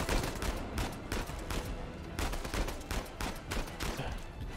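Rifle fire in the Uncharted video game crackles in dense, rapid volleys of sharp overlapping shots that keep going throughout, steady and fairly loud.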